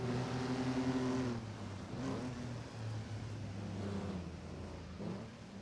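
1950s sports car engines roaring around Laguna Seca in a racing video game, a steady layered drone of several engines with shifting pitch as they accelerate, moderately quiet and continuous, with no voices.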